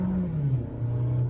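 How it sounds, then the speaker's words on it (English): A 2025 Opel Grandland in Sport mode revs hard under acceleration, a loud, close, throaty engine drone whose pitch dips briefly as it pulls. "nice throaty engine sound. You can hear that intake doing its thing, sucking in air and giving us the power"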